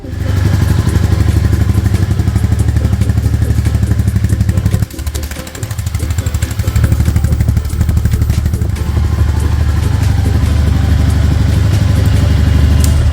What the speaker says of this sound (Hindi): चलिए अब आपको मैं बाइक स्टार्ट करके दिखाती हूँ।